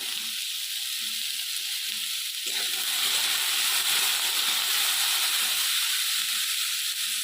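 Potatoes fry in a pan with salt and turmeric, giving a steady, close sizzle and hiss that swells a little partway through and then holds evenly, with no voices over it.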